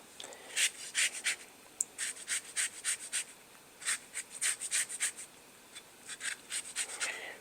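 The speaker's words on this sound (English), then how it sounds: "Doing the zest of 1 lemon." A lemon is zested with quick scraping strokes, dry rasping bursts coming in short rhythmic runs with brief pauses between them, close and fairly soft.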